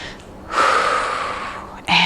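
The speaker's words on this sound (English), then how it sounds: "Breathing out as we come down, breathing in as we come up" Heavy breathing during a workout, a long audible exhale followed by a sharp inhale, close to the microphone with a hiss of air.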